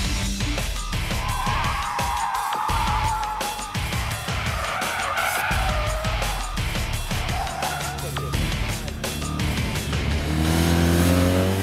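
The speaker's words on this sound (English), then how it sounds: "We're testing the brakes on the car, we're testing its acceleration." A police car under vehicle dynamics evaluation, tires squealing and skidding during hard braking, then the engine revving as it accelerates away, loud and continuous throughout.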